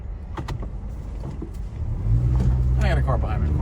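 A 2009 Toyota Matrix going into reverse on a rough uphill residential street, its engine rising to a louder steady hum partway through, with scattered clicks and a voice at the start.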